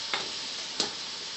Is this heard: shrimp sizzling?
yes